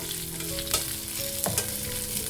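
Curry leaves fry and crackle in hot oil in a pan while a spoon stirs, a steady close sizzle with a few sharper scrapes and pops, no voices.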